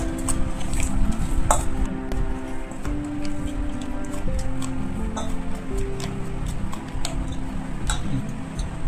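A spoon scrapes and clicks in quick irregular strokes as salt is mixed into a green chili pickle, close and steady throughout, with a faint voice in the background.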